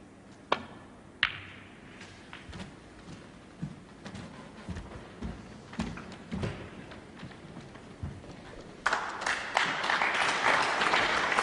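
A snooker audience at a 2009 match between Ronnie O'Sullivan and John Higgins claps, starting with a few sharp ball clicks and scattered claps before swelling into sustained applause toward the end.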